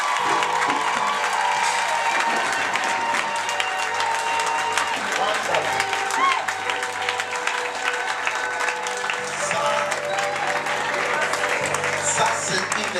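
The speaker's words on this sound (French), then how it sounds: "Est-ce que vous pouvez acclamer fort pour le Seigneur?" A church congregation applauds and cheers loudly for the Lord, sustained clapping and crowd voices filling the space steadily from start to finish.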